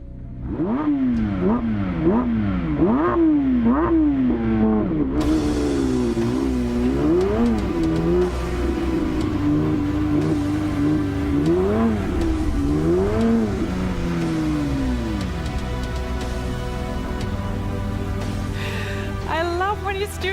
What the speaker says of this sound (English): the new Porsche 911 GT3